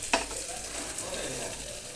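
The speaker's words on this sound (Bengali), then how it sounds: "চিংড়ি মাছটা একটু নেড়ে তারপরে আমি জল দিয়ে দেবো।" Prawns being stirred in a pan with ginger, chilli, onion, tomato, salt, turmeric and garlic paste, giving a steady close sizzle of frying with a brief scrape of the stirring spoon near the start.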